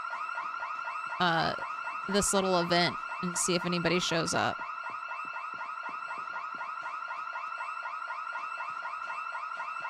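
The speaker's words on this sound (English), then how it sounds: "I got hit with a bunch of house alarms" A house alarm going off in the zombie game Project Zomboid wails in a steady, rapidly warbling electronic tone through the whole stretch, loud and continuous, while someone talks over it for a few seconds early on.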